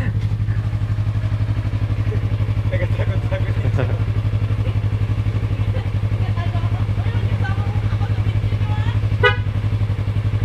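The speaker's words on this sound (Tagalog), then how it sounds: "Wow, naka dual horn." A dual horn on an R3 motorcycle in Palawan gives brief honks over the steady, loud rumble of the idling engine, with a few clattering bumps.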